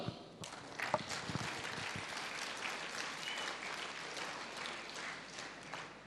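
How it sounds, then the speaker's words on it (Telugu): An audience at a business meeting claps together in a continuous, even round of applause, moderately quiet and sustained without a break. "ఒకసారి వీళ్ళకి క్లాప్స్ ఇద్దాం"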